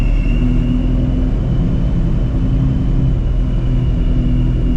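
Inside a procharged 700 hp Shelby GT350 as it moves along, a loud, constant low rumble with a steady whine above it, continuous and close with no voices.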